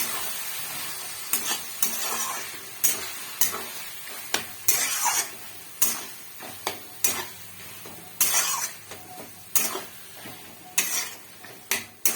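Kochu loti (taro stolons) with fried prawns and boiled potato is stirred in a pan, with a steady sizzle of frying broken by regular scraping spoon strokes against the metal, close and without talk.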